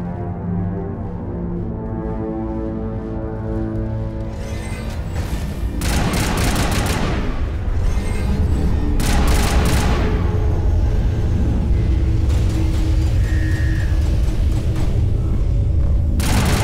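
Sustained gunfire from the Mass Effect video game, a Geth fight, starting as a steady low rumble and breaking into repeated loud volleys and bursts of shots through the second half.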